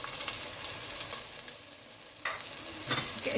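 Chicken with yogurt and spices is stirred in a pan, with a dense, steady sizzling hiss and a couple of louder scraping strokes, close, with no voices.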